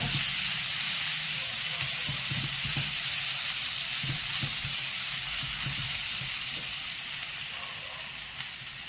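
Onions frying to medium brown in a pan hiss loudly and continuously, with soft low scraping of a spatula stirring underneath and the sizzle easing slightly near the end.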